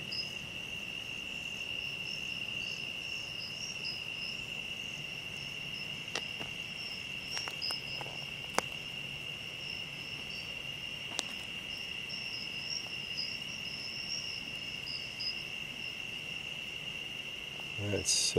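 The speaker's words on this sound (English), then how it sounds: "Yeah, that's all you hear is the crickets." Crickets chirp in woods near a river bridge at night, forming a steady, shrill, continuous drone with a second higher chirping layer, plus a few faint clicks and a brief rustle at the end.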